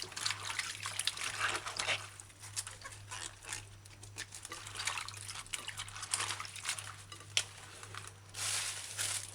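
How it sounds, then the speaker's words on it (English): Water trickling and splashing steadily in a bowl as bok choy leaves are rubbed clean by hand, continuous close dribbling with soft patters over a low steady hum. "Take each leaf, use your finger, wash between the stem properly."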